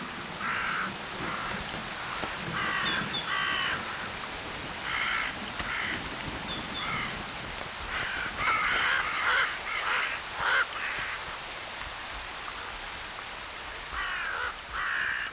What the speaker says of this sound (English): The predator willingly braves a horde of aggressive birds for a free meal.